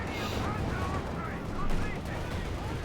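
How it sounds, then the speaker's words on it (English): Land mine bursting under a T-70 tank in a Company of Heroes 2 battle, a muffled blast swelling briefly amid the ongoing crackle of gunfire and artillery. "mine went off into the T-70"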